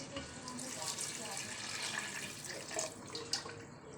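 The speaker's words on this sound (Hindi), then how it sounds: "अब पानी जाएगा इसमें ताकि ये आलू गल जाए" Water runs and pours into a pot of four potatoes for aloo ki tahari, a steady splashing rush that continues throughout, with a voice faintly present underneath.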